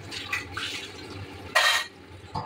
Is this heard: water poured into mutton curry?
yes